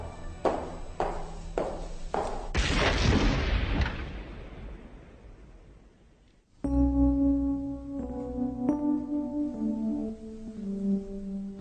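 A parcel bomb explodes inside a post office counter hall: a loud, sharp blast around the third second follows a few thumping knocks, then a long noisy roar that decays over several seconds before dramatic music takes over.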